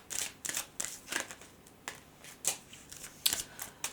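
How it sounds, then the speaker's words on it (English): Tarot cards being drawn and handled during a love reading, a run of crisp close slides, snaps and flicks of card stock arriving in quick irregular bursts, with no talking. "I'm gonna now take some more cards."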